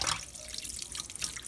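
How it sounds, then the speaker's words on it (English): A tap runs steadily into a sink while hands are rinsed after cleaning a granite countertop with dollar store soap pads, giving a soft continuous splash and trickle at close range. "Rinse your hands really, really good."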